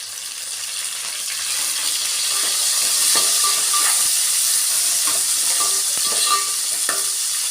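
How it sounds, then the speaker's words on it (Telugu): Curry leaves crackle and sizzle steadily in hot oil for moong dal khichdi, with scattered sharp pops and a faint stirring clatter, close and fairly loud, with no voices. "కరివేపాకు వేసుకుందాము ఒక రెండు రెమ్మలు అయితే కరివేపాకు తీసుకుంటున్నాము"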